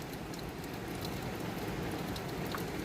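Steady rain pours down on a garden with tomatoes and a compost pile, a dense, even hiss of drops with no talking.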